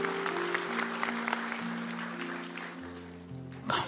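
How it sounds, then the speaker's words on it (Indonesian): A church congregation applauds during a sermon, a steady wash of clapping held at moderate level against a sustained organ or keyboard chord, fading toward the end. "Kasih tepuk tangan untuk Tuhan."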